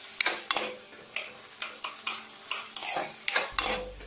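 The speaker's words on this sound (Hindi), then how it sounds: "फिर तो इसको हम अच्छी तरह से मिक्स कर लेंगे।" Brinjal bharta being stirred and mixed in a pan, with a spoon scraping and clinking against the metal in a steady series of close, sharp taps and scrapes, no talking.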